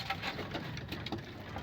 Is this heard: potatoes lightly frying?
no